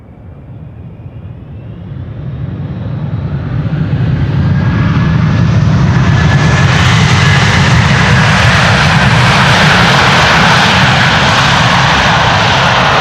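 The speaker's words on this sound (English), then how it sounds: "It's a Delta A330-300, flight 236, arrived from Tampa in Florida." An 18-year-old Delta Airbus A330-300 jet arrives at Amsterdam Schiphol Airport from Tampa, its engine roar swelling from a distant whine into a loud, sustained, close rushing roar as it passes overhead.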